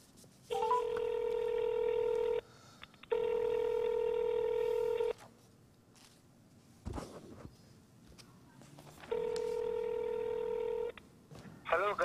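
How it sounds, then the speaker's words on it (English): A telephone number is dialed, with long steady keypad tones in three separate bursts separated by quieter gaps with faint movement and a brief thump. "Let me get this man on the phone now."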